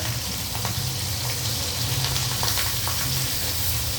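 Steady loud sizzling of chicken frying in hot oil, a constant crackling hiss throughout with no voices.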